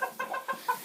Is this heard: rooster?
yes